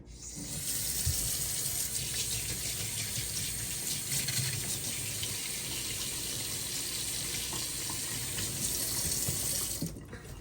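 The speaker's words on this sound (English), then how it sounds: "I'm just going to rinse out the mat to put a clean soap again" Steady running water from a tap splashing onto a makeup brush cleaning mat, a continuous close hiss and patter that cuts off at the end.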